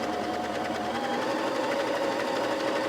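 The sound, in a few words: Husqvarna Viking Emerald 118 sewing machine stitching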